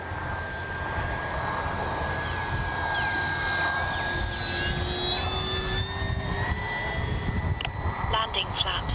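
An FMS Cessna 182 1500mm RC model airplane flying on a windy day, a steady high electric motor whine with shifting pitch as it passes close, continuous and loud, with wind rumble underneath.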